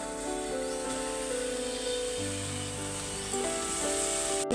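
Leafy greens hit a hot pan with ginger-chili paste, giving a steady, fairly loud sizzle that swells as they land, with no talking over it.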